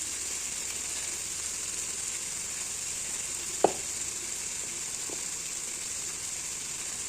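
Spices with grated ginger, cumin, coriander, turmeric and chili powder sauté in a pan, a steady bright sizzle throughout with a brief sharp clink of a utensil near the middle.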